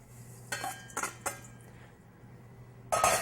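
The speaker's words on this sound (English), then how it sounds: "And again, we'll just give that a whisk." Nut and oat flour whisked with dry ingredients in a bowl for fruit and nut cookies, heard as a few sharp clinks of the whisk against the bowl, spaced apart, then a louder clattering burst at the end.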